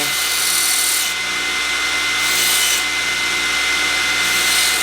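A 2x72 belt grinder with a 10-inch contact wheel takes the burr off metal washers, a loud steady abrasive whine and hiss running throughout, with the pitch dipping slightly as each washer is pressed to the belt.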